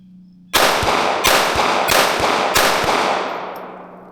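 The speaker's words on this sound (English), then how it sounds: "now we have standard .22 long rifle, some hollow points, and these should cycle no problem out of here" A Ruger MKIV pistol fires .22 Long Rifle hollow points outdoors: four sharp, loud shots spaced roughly two-thirds of a second apart, each cracking and ringing out before a long fading tail.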